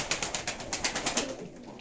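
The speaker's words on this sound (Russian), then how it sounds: "хочу показать голубей, линоканцев" Pigeons coo in a steady, rapid series of soft pulsing calls, close by and alone, fading slightly toward the end.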